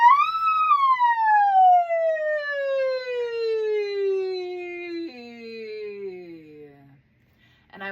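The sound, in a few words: voice imitating a siren in a vocal warm-up exercise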